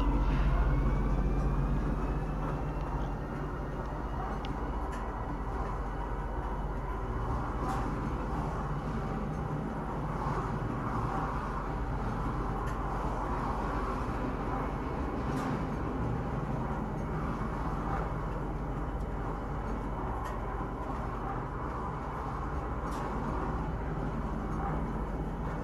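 Train running in the Star Citizen video game toward TISA Spaceport, a sustained low rumble with a steady droning hum and faint periodic clicks, continuous and fairly close.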